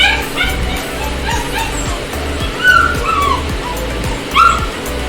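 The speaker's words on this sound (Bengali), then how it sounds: "এই কুকুরটার নাম আমরা সঙ্গীতা বিজদানি দিতেই পারি" A German Shepherd or Husky puppy whimpers and yips close by during a home bath, giving high whines, two louder yelps and short bark-like cries. A low rumbling hum runs underneath.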